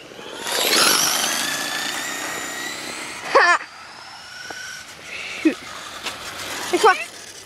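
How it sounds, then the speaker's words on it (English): A Traxxas Rustler VXL RC car's electric motor runs on a road, whining up and fading as the car speeds away, followed by brief revs nearby, with a person talking at times. "listen to my car. Sounds like a mini dirt bike."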